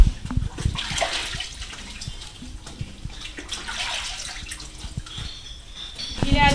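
Running water rinsing freshly washed produce at a farm washing station, a steady splashing flow throughout at moderate level, with faint voices and occasional clatter in the background.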